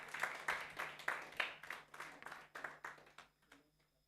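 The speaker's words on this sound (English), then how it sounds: "A round of applause for yourselves." An audience claps at a business club launch event in Nigeria, a brief round of applause that starts lively and thins out to scattered claps after a few seconds, fairly quiet with no voices over it.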